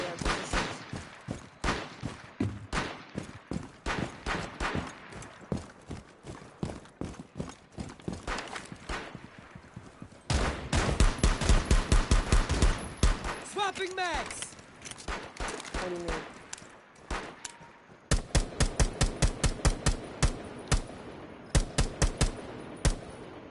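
Rainbow Six Siege gunfire rattles in rapid repeated bursts of close, sharp shots, broken by short pauses, with players talking over parts of it.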